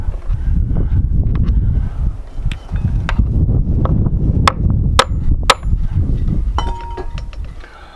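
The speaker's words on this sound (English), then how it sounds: "I cringed when I heard you hit it with the hammer" Hammer blows on an engine part while a cam is fitted to a 2012 Cummins ISX single-cam diesel, a few sharp metallic strikes and clinks over rustling handling noise and some wind.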